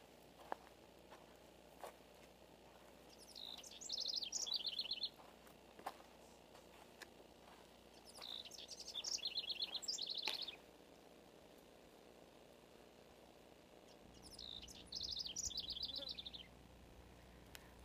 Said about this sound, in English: I'm walking through a little grove where birds are having a rather lively conversation